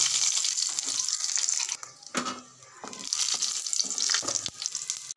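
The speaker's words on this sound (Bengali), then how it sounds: "এগুলো একটু হালকা ভেজে নেব।" Dried chilies sizzle steadily in hot oil in a pan while mutton liver curry is prepared, a continuous bright hiss broken briefly by stirring and clatter near the middle before the frying noise returns.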